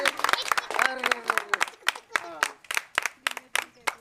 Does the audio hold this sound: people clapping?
yes